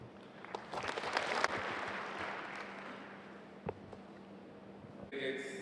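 Applause from delegates at an African land forces summit swells into a dense wash of many hands, then tapers off over a few seconds to scattered claps, and a voice begins at the very end.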